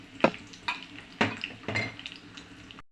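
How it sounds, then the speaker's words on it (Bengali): Onions fry in a pan toward a light brown: a quiet background sizzle broken by several distinct scraping, clattering stirs at uneven intervals, close by, with no voices. "পেঁয়াজগুলো হালকা বাদামি কালার করে নিয়ে আসবো, গাঢ় হালকা বাদামি কালার।"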